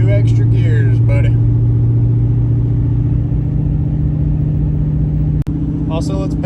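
Inside a 2008 Ford F450 pickup with a 6.4L diesel, the engine drones steadily and loudly, its pitch dropping about midway as it moves through the gears. Brief voices come in near the start and end.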